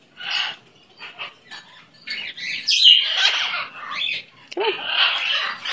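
An indoor pet bird gives close, bright chirps and sharper squawks in irregular bursts, separated by brief quiet gaps.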